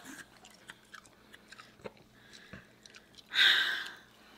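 Wet chewing and crunching of food during a mukbang eating challenge, close and intermittent with soft mouth clicks and sniffs, ending in a louder burst of breath or noise.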